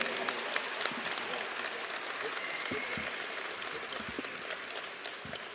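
Audience applause at an Alabama A&M introduction of new head football coach Sam Shade, a dense, steady wash of clapping from a crowd that holds at an even level throughout, with faint voices mixed in.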